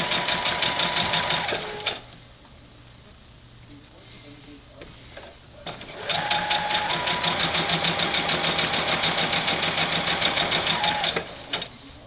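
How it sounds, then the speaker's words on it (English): A sewing machine stitches quilt fabric in two loud, steady runs of rapid mechanical whirring, separated by a quieter pause, while a person talks over it. "I'll actually sew on the other end too"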